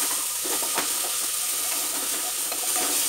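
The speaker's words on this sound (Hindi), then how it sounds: "अब ये प्याज को हम डाल देंगे और इसे थोड़ा कलर चेंज होने तक भूनेंगे।" Chopped onions fry in hot oil in a pan for Awadhi tehri, with a steady close sizzle and hiss and a few soft scraping stirs, no voices.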